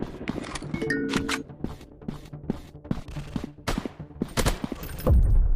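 Gunfire in a first-person counter-terrorist shooting video game: rapid, sharp shots in bursts and single cracks close up, with electronic game effects between them and no talking.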